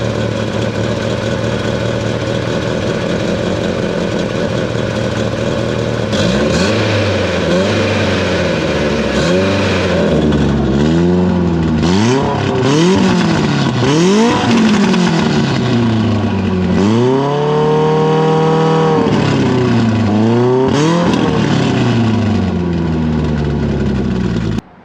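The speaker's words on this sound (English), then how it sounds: "that's what it sounds like with the exhaust open" An Evo car engine revs repeatedly through a loud, open exhaust, rising and falling in sharp bursts, with one longer sustained rev, heard close up from underneath the car.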